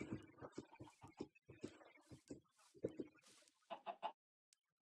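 A chicken in the video game Minecraft clucks in a long run of short, rhythmic clucks and bursts, close and fairly clear, ending with a few sharper clucks and a brief click.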